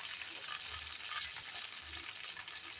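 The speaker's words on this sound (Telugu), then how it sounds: "బాగా పచ్చిమిర్చి కూడా వేగాలండి" Green chillies, dried chillies and ginger fry in hot oil in a pan, a steady close crackling sizzle with faint scraping stirs, no talking.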